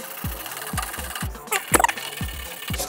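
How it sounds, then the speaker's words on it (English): A hard bristle brush scrubs a dirty metal computer case with soap, giving steady rasping strokes about twice a second, close and moderately loud. "I've got a really hard bristle brush, so I'm just gonna try that first."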